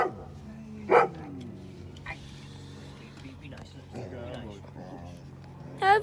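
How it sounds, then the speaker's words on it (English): Guard dog greeted up close by people, giving a couple of short sharp barks or yips between quiet, affectionate talk and whispering. "You're a very good guard dog, Hank."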